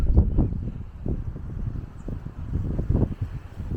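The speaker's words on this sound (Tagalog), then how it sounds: "Lakas ng hangin, naririnig nyo." Strong wind at Prachov Cliffs buffets the microphone in low, rumbling gusts that rise and fall continuously, close and loud.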